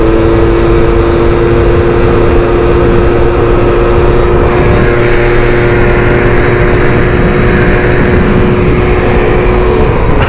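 Scooter engine ridden hard on rough enduro terrain, a steady loud mid-pitched drone that holds throughout with slight shifts in revs and no talking.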